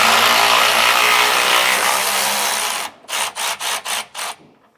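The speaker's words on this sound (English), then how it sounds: "So now we can remove our bolts and get our sway bar, take them down and set aside." A power tool runs steadily while removing sway bar bushing bolts on a 2019 Ford F-53, then cuts into a series of five short, loud bursts before stopping.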